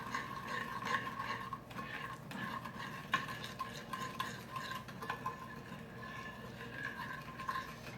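Brown sugar, butter and light corn syrup are stirred together in a dish, giving soft, close scraping and swishing strokes with light utensil clinks, fairly quiet and without speech.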